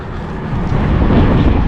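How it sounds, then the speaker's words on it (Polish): A fixed-wing airplane passes overhead near Douglas on the Isle of Man, a broad roaring rumble that swells louder over under two seconds, mixed with outdoor wind noise and no talk. "O wow, zobaczcie tutaj co leci, jak samolot."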